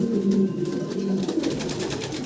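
Fancy pigeons coo steadily in low, throaty, overlapping calls, close and continuous with soft rustling behind them.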